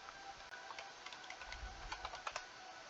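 Typing on a computer keyboard while writing code, a steady patter of light, irregular key clicks, fairly quiet and alone with no talk.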